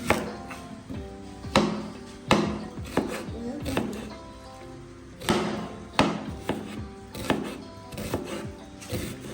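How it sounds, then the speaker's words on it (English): A new knife cuts through an onion on a board in a steady series of sharp, close chops, about one every second, with short pauses between bursts and no talking. "So I'm going to cut up my onion"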